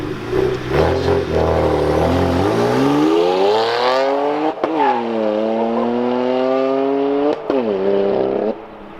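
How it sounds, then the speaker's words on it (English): A BMW 335i with an N54 engine and performance exhaust launches hard, its tone sweeping upward through loud revving pulls broken by sharp pops and a stumbling misfire between gear changes. "That sounded like a misfire right there."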